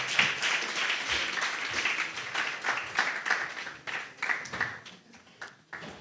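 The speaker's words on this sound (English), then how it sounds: "A round of applause for her." An audience at an evening event on responsible TikTok content claps in fairly loud, steady applause that fades and breaks up toward the end.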